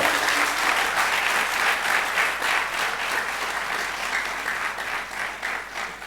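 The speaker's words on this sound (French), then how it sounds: "Et pour eux, mesdames et messieurs, applaudissons très fort." Loud, sustained applause from a large audience at a business pitch event, a dense wash of clapping that holds steady throughout.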